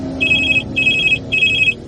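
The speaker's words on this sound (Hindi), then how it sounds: "फोन बज उठा।" A telephone bell rings in a horror audio drama, three loud, evenly spaced bursts of bright trilling separated by short silences, with no voices over it.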